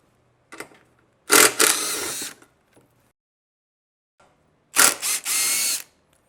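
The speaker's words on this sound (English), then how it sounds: "The next thing to do is pull these bolts out on both sides of the seat." Ratchet with a 13mm socket backing out the seat bolts on a Honda Shadow Phantom motorcycle: two close, loud bursts of rapid clicking ratchet strokes separated by a quiet pause.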